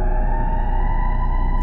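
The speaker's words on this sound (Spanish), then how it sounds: "el sonido de la sirena se seguía percibiendo, aunque de manera mínima" A loud, steady emergency siren used as a sound effect in a horror story, holding one unbroken wailing tone that stays close and forceful for the whole moment.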